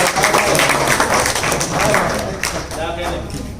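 Applause from the audience at a literary gathering honouring a poet, a dense wash of clapping that keeps up for several seconds and fades slightly toward the end, with a voice mixed in.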